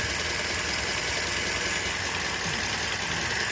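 A 2005 Toyota Vios engine idles steadily right after restarting, giving a close, continuous mechanical hum with a faint rhythmic knock and vibration and no talk over it.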